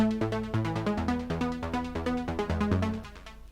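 A melodic synth phrase runs through a delay effect whose high-cut setting strips away the low end, with plucked notes and their repeating echoes stacking into a steady, moderately loud pattern that fades at the end.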